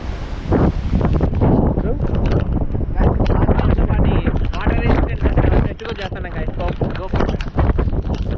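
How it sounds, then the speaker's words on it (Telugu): Hilltop wind at Horsley Hills blasts across the microphone, a loud, steady rumbling roar with uneven gusting surges and a brief dip midway. "గాలి కొడుతుంది ఏంద్రా"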